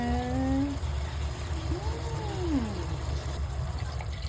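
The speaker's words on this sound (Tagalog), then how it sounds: "Lalagyan niya na ng tubig." Water poured into a pot for beef curry, a soft trickling splash under a steady low background hum, fairly faint and continuous.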